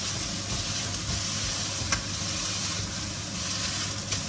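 Burger patties with onion sizzle in a pan as they are pressed flat, a loud continuous hiss close by for a few seconds with a couple of sharp spatula clicks, no voices.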